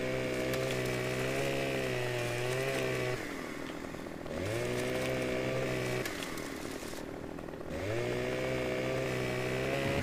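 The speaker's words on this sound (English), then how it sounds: "just sort of run your chainsaw along" In the Farming Simulator 15 video game, a chainsaw cuts tree branches, its loud steady engine drone cycling through three revving cuts with brief dips between them.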